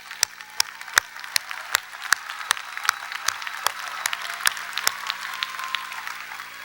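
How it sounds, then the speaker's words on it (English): Crowd applause rolls through a college commencement ceremony, a dense, steady clatter of many hands with sharper individual claps popping out, continuing for several seconds without speech. "Let's give them a round of applause for that."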